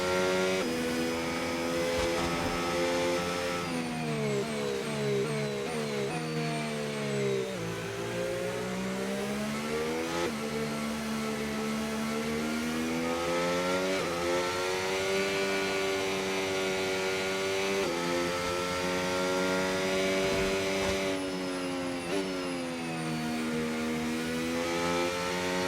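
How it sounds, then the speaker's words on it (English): Williams Formula 1 car engine during Australian GP practice in F1 25, a loud, high-pitched whine rising through the gears, with repeated downshifts dropping the pitch for corners, steady and close throughout. "How much important is to have a good engine sound in a game? The engine sounds so good now,"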